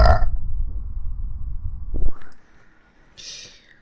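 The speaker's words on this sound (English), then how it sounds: "I need a burp." A loud, low, rumbling burp lasting about two seconds, followed by faint rustling and a brief higher hiss.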